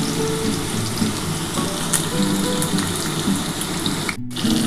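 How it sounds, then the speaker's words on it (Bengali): Potatoes fry in hot oil in a pan for a Bengali mutton stew, a loud, steady, close sizzle that continues throughout and briefly drops away near the end. "আলুটা একটু ভেজে নিই"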